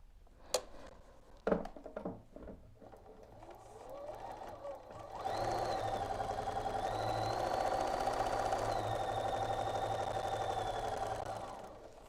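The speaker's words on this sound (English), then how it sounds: "we'll get these pieces sewn on" A sewing machine stitches quilt pieces together with a steady, even whir lasting several seconds, close and moderately loud after a few faint clicks and handling sounds.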